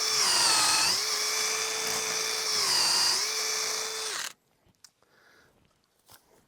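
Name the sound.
power drill boring hole into fence rail post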